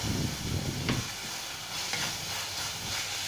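Spiced mixed vegetable curry being stirred in a pan, a steady soft sizzle and hiss with scraping strokes, close and fairly quiet, no voices.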